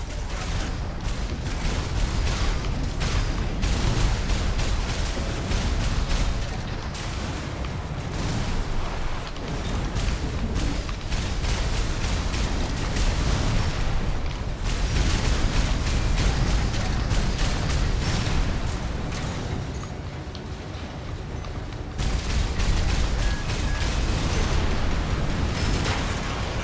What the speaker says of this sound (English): Use your mobility in the air to get clear of explosions on the ground.